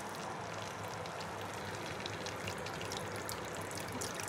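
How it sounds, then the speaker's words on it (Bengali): A steady, soft trickle of water poured into fried masala in a pan while making butter paneer gravy, continuous and fairly quiet with no talking. "এবার আমি পরিমাণ মতন একটু জল দিয়ে দেবো"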